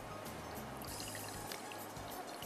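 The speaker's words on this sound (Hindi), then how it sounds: "आधा कप पानी इसमें डाल दीजिए" Half a cup of water poured into a pan of cashews being cooked for chicken chatkhara, a quiet continuous splashing pour with light trickling, faint and steady for a couple of seconds with no voices.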